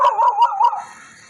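A dog yelps and barks several times in quick succession, high-pitched and close, then falls quiet.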